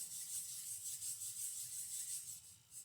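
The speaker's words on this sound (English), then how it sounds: "rub your hands together" Two hands rubbing together in a quiet room during a guided relaxation, a steady soft swishing friction that continues for a few seconds, close and gentle.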